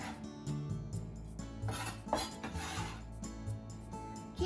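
Garnish for pork kimchi rice being put into a small bowl, with steady clinks and scrapes of utensils against dishes running close and fairly loud throughout, no talking.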